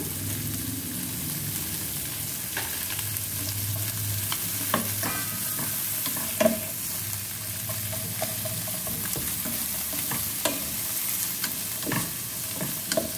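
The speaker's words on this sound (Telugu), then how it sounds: "కొంచెం అల్లం వెల్లుల్లి పేస్ట్ వేస్తున్నాను, 1 స్పూను." A spoonful of ginger garlic paste frying on a low flame for semiya coconut milk pulao, a constant soft sizzle broken by occasional clicks and scrapes of a spoon against the pan; no voices.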